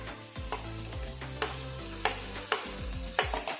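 Spice and cashew paste fries in a pan with a steady sizzle, while a spoon scrapes and taps against the pan in a regular rhythm of sharp strokes.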